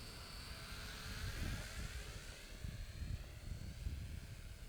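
A TopRcHobby 450mm Mini CUB-X RC plane flies at half throttle with a steady propeller drone and faint shifts as it passes overhead. The whine carries throughout, with outdoor wind rumble underneath.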